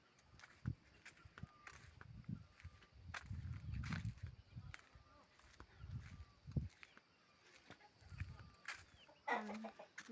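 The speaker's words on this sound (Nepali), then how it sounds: "कुखुराको चल्ला" Chicken chicks peep faintly in a rural yard, with soft shuffling footsteps and movement close by and quiet talk throughout.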